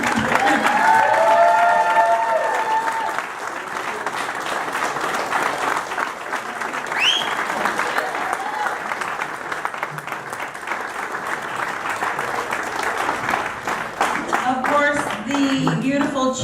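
Wedding guests at a surprise wedding reception break into sustained applause and cheers, a loud dense clapping crowd lasting throughout, with voices calling out over it and a few whoops near the end.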